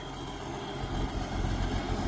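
Old Versatile tractor engine running steadily under load in a field, a continuous low rumbling drone that swells slightly partway through, close and alone with no talk.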